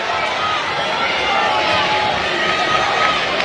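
A crowd at a girls' high school basketball game, Jefferson against Benson, roars after an and-one layup. The cheering is a steady, dense wall of noise, with voices blended throughout.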